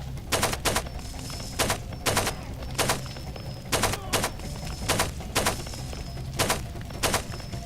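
Gunfire in Far Cry 2 rings out in repeated short bursts, about a dozen sharp cracks spaced fairly evenly under a steady background hum.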